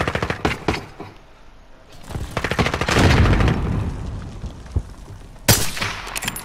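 Rapid bursts of gunfire from a Call of Duty: Warzone match crackle in clusters, with a heavy booming stretch in the middle and a sharp, loud burst near the end over constant background game noise.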